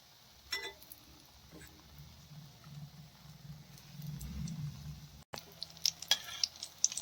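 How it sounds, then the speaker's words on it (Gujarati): Paneer pakoras deep-frying in hot oil over a low to medium flame, giving a soft, steady bubbling sizzle at close range with a few faint clinks and stirring noises, and no speech. "ગોલ્ડન બ્રાઉન કલરના થાય ત્યાં સુધી પકોડાને તળીશું."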